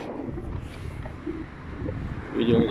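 Wind buffeting the microphone in low rumbling gusts, growing louder toward the end.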